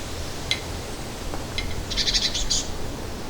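Short bird calls ring out amid faint background noise, a brief chirp early on and then a louder burst of rapid, repeated chirping notes near the end.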